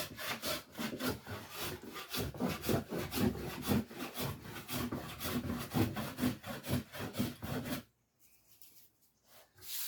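A hand plane works diagonally across an awkward timber board, producing repeated rhythmic rasping strokes with shavings, close and steady, then falling nearly silent near the end before one last faint stroke.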